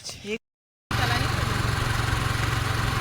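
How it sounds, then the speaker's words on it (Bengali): A scooter engine drones steadily while being ridden, a close, continuous buzzing hum with wind noise, following a brief moment of talk and a short silence. "বহুদিন পর কিন্তু আমি স্কুটি চালাচ্ছি"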